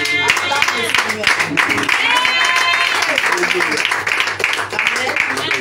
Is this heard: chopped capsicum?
no